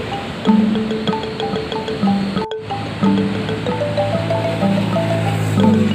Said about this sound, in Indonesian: Deburan ombak.